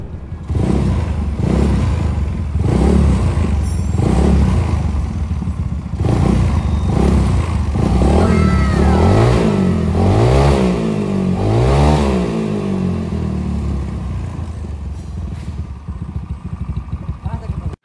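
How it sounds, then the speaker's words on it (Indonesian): A Yamaha Mio scooter engine starts after a wiring repair and revs loudly in repeated surges, rising and falling close by with a clattery mechanical edge. "Dan langsung aja kita cobain nyalain motornya."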